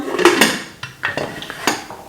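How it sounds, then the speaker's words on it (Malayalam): Metal pressure cooker pot and lid clanks, a few sharp knocks and scrapes at close range, ending in a firm clunk as the lid settles shut. "അപ്പോൾ നമുക്ക് കുക്കർ അടയ്ക്കാം."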